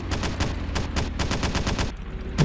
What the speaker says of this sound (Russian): Стреляю наотмашь, потому что я слабо себе представляю, где пулемет.